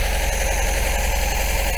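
An MGB's engine idles steadily during carburettor mixture adjustment, giving a continuous, loud, close rumble with an even, slightly uneven-beating pulse throughout.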